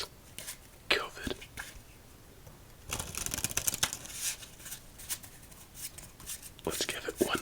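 Playing cards are shuffled close up for a round of solitaire, riffling in short soft bursts and then a longer rapid flutter, with quiet whispered talk between the shuffles.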